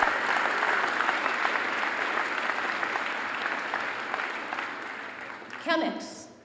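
Steady, full applause from a large crowd at a high school graduation fills the hall for several seconds, ending with a short voice over the tail of the clapping.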